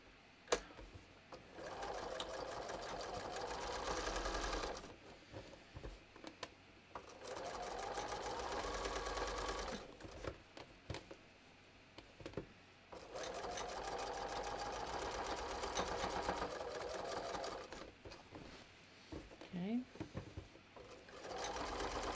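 A home sewing machine understitches a bathrobe seam near the back neckline, running in long steady whirring stretches broken by short pauses, with a voice talking at times over the stitching.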